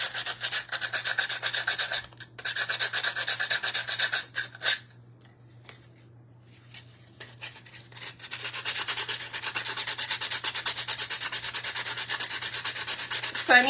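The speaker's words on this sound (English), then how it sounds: "It's just to sand it down until I can get to it." Hand sanding with 80 grit sandpaper from a budget pack, smoothing a canvas craft project: steady rasping strokes that run continuously, pause briefly in the middle, then resume at the same close, even intensity.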